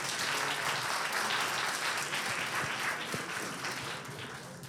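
Steady audience applause following speaker presentations at a financial authority's digital currency pilot launch ceremony, a dense wash of clapping from a sizable crowd that holds level then begins to taper near the end.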